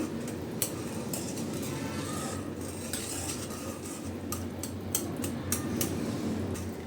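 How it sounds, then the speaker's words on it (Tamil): A whisk stirring a milky mixed-fruit payasam in a pot, a steady scraping swish with occasional light metallic clinks against the vessel, continuous and close. "இப்போ விஸ்க் வச்சுட்டு அப்படியே எல்லாத்தையும் நல்லா கலந்து விட்டுடலாம்"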